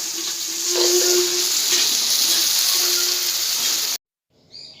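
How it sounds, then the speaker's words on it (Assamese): Steady hissing sizzle of meat cooking over a fire, fairly loud and continuous, cutting off abruptly near the end. "জুইত ছাগলী মাংস বনোৱা সোৱাদে বেলেগ"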